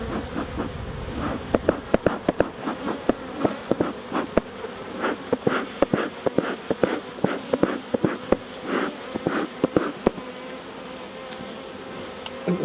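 Honeybees swarm thickly over a crowded hive frame full of drones, a close, continuous buzzing hum punctuated by sharp bumps and knocks from handling the frame, with no talk.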